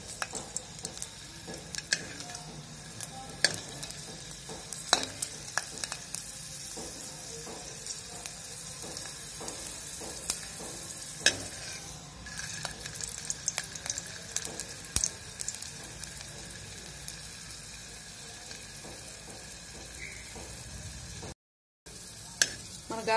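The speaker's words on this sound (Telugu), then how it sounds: "మన గార్లిక్ బాగా రోస్ట్ అయిపోయిందండి" Garlic cloves dry-roasting in a pan for groundnut and garlic podi, giving a steady soft crackle with scattered small pops and ticks that continue throughout, with no talking.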